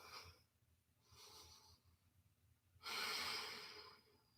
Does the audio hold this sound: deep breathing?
yes